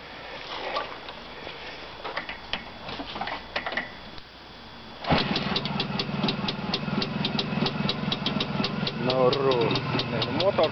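An engine cranks and catches about halfway through, then settles into a steady, rhythmic idle with a ticking, knocking beat; people talk briefly before it starts.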